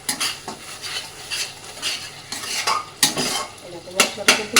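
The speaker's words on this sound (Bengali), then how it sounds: "পরে একটু এগুলো সব মশলাগুলো একসাথে ভালো করে কষিয়ে নেব" Spices frying in a pan are stirred vigorously, with repeated loud scraping strokes of a spoon against the pan over a steady sizzle, coming in rhythmic bursts about every half second.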